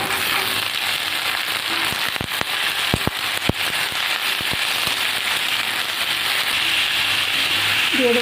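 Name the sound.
pumpkin pieces added to hot oil, sizzling with fried bitter gourd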